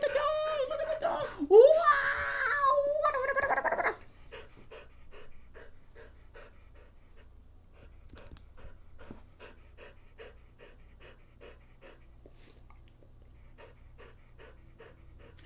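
A dog pants in quick, even rhythm close by for over ten seconds, faint and steady, after a stretch where people talk and laugh over it.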